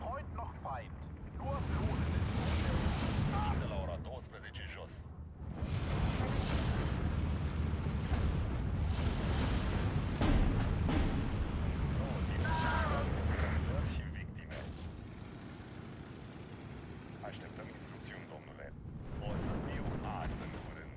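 Artillery cannons in the Steel Division 2 war game fire in heavy, booming bursts with rumbling explosions and scattered gunfire, loud and sustained for long stretches with short lulls, while someone talks over the battle.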